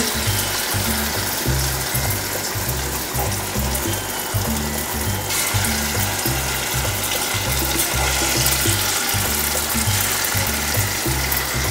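Palm fruit fritters deep-frying in hot oil, giving a dense, continuous bubbling sizzle that stays loud and close for the whole stretch, with no voices.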